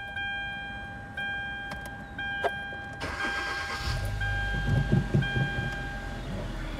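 A car engine starts up after a throttle body reset and settles into a low, steady idle rumble, preceded by a few faint clicks and a short tonal whine.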